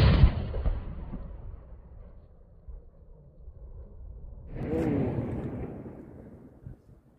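A single loud gunshot from a locally made 8mm Kalashnikov-style rifle fires outdoors. It sounds as a sharp blast with a long rumbling decay, and a second booming report or echo follows a few seconds later.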